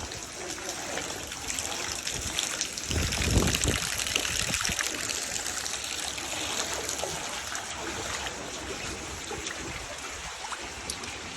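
Rainwater trickles and drains slowly off a flooded rooftop whose pipe outlet is clogged with leaves, a steady close watery dribble with a brief splashier burst partway through, no talking.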